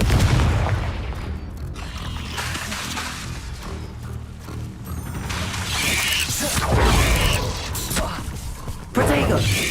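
Blasting-spell explosions in the video game Hogwarts Legacy: repeated loud booms and crashing impacts amid combat effects, with a voice speaking over the action.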